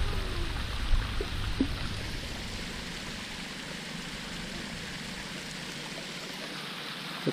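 A steady broadband rush of a garden fish pond waterfall runs continuously at a moderate distance, with a few faint clicks and splashes early on.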